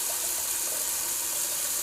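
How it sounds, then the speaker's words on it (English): Cold tap water runs steadily into a sink for a rinse during a wet shave, a brief, constant close hiss with no talking. "I'm just going to do a quick little cold water rinse"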